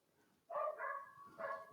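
A small dog barks in two quick yaps, then gives a third bark after a short pause. The barks come from indoors at moderate distance and are fairly soft, with no talking over them.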